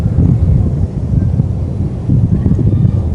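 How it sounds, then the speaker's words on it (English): Wind blowing outdoors near seagulls, traffic and playing children, a steady low rumble buffeting the microphone for the whole stretch, with slight surges and dips in strength and no voices. "Wind blowing."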